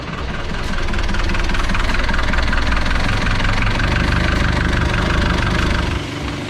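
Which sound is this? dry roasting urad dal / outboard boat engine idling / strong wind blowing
outboard boat engine idling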